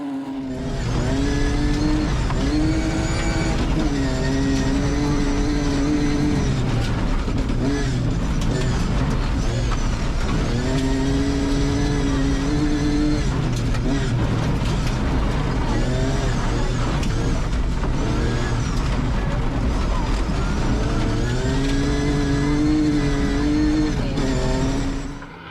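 A big BMW rally car on a slippery snow rally stage, its engine loud and close, rising and falling through repeated hard revs and gear changes, steady throughout with no talk.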